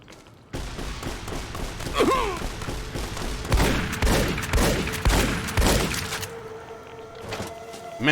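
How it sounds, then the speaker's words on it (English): A shotgun in Fallout: New Vegas fires in a rapid string of about eight loud blasts in quick succession, with brief grunts and game effects between shots. "Man, he was shooting so fast with that right shotgun."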